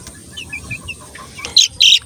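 Chickens give short, high clucks and chirps close by, scattered at first and then a few louder squawking bursts near the end.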